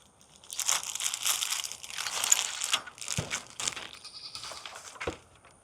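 Goats bleat repeatedly at close range, several overlapping calls rising and falling, with crinkling and rustling noises between them and a couple of sharp knocks.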